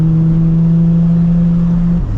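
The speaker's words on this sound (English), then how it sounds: "Accelerating, clutch in, shift, clutch out." Nissan 350Z with a manual gearbox, its engine droning loud and steady from inside the car as it accelerates, then dropping off sharply at the end as the clutch goes in for a shift.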